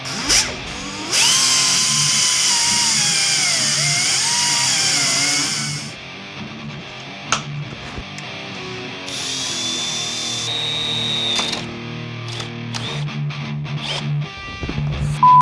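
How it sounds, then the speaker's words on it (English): A power drill whines loudly and steadily for several seconds drilling out a broken bolt, its pitch dipping under load, then stops; clanks and lighter tool noises follow. "So I'm going to shave it down and drill it out."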